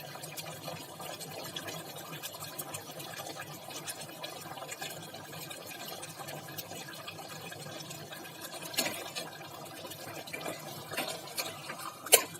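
Soft, continuous bubbling and sputtering of a pot of mutton curry simmering on the stove, close and low, with a few louder pops toward the end.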